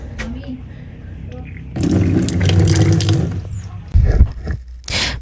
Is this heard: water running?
yes